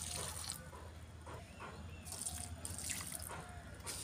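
Water being poured to water garden plants, a soft steady splashing and trickling stream with brief gurgling surges, fairly quiet over low background rumble.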